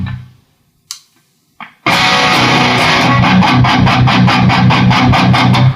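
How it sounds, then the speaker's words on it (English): Electric guitar played through a Protone Bulb Overdrive Deluxe pedal set to its diode clipping mode: two brief picked notes, then loud, dense distorted chords strummed in a steady rhythm, close and alone. "Let's have a look at the diode clipping now."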